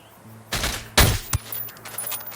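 Gunfire in a Tom Clancy military shooter game during a raid on an army camp: a couple of sharp, loud close shots in quick succession, followed by fainter rattling and softer echoing noise.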